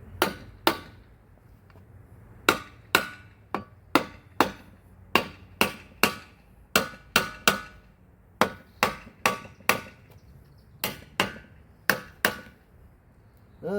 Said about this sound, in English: Let's give that old rack a tap.